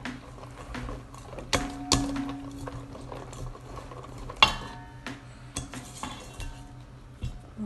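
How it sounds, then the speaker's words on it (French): Brownie batter with eggs and hazelnuts is whisked in a bowl set over a bain-marie, giving irregular metallic clinks and scraping strokes up close, with a few sharper knocks against the bowl. "On va fouetter."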